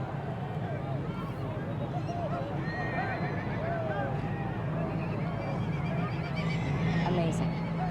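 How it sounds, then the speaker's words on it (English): Ponies whinny repeatedly amid a noisy outdoor crowd at the Chincoteague Pony Swim, the neighs rising above a dense wash of chatter and splashing. "You can hear those neighings."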